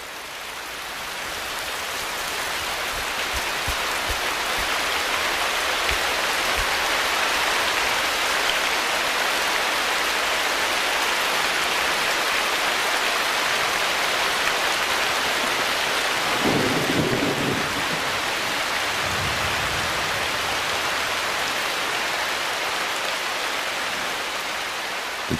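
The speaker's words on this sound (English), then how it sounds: "Regular downpours are essential for life in the forest." A heavy tropical rainforest downpour roars steadily and loudly throughout, with low rumbles of thunder breaking through briefly near the middle.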